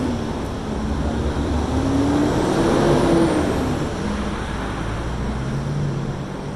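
A loud truck passes by on the road, its engine rumble swelling to a peak midway and then fading, with a low, heavy roar over the traffic background.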